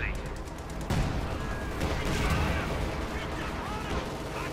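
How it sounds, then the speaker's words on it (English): Anti-tank guns fire at a Panzer IV during a Company of Heroes 2 battle, bursts of gunfire and explosions layered with loud, continuous combat noise and a voice talking over it. "Anti-tank when they're firing at the Panzer IV."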